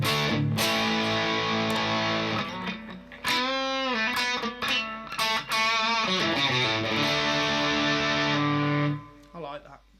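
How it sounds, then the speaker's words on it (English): An electric guitar played through a Hotone Ampero Mini on a dirty distortion setting rings out in loud, sustained chords and single-note runs with short pauses and a gritty, saturated tone. "This is my dirty distortion sound."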